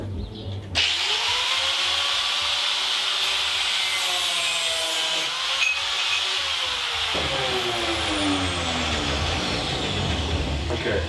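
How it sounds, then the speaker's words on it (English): Belt sander grinding the core of a golf club bullwhip, a loud, steady electric whine and abrasive rasp that starts abruptly and runs continuously up close, with pitch dipping slightly as the piece is pressed to the belt. "So the belt sander, you can hand sand this if you wanted to."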